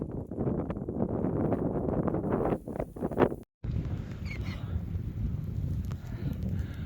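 Strong wind buffets the microphone on an exposed, icy mountain, a loud, close roaring rush with gusts that briefly drop out before the blast resumes.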